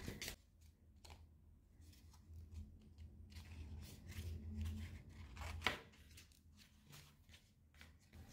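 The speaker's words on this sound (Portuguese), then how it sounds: "E aqui é só cortar fora essa fita floral." Scissors snip through floral tape on a handmade EVA foam flower favor, giving a series of soft, close, crisp cuts over a quiet low background hum.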